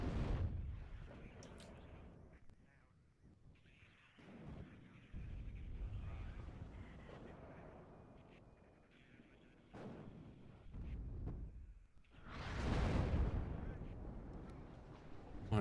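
Artillery fire in the war strategy game WARNO booms out in several heavy blasts, the loudest and closest near the end, with quieter distant rumbles and impacts in between and a voice talking over parts of it.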